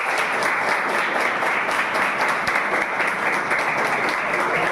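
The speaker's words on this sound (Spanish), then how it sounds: "A quien les pido un fuerte aplauso también." Strong audience applause at a lecture on a 2024 constitutional reform, a dense, steady wash of clapping from a crowd that holds at a loud, even level throughout with no break.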